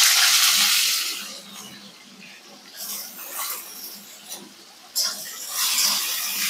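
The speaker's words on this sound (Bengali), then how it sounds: "এই তেলেই আমি প্রথমে উচ্ছেগুলো ভেজে নেব" Bitter gourd fries in hot oil that was just used for lentil dumplings, hissing in uneven bursts that rise and fall close by, with quieter gaps between them.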